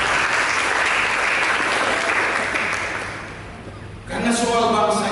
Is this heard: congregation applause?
yes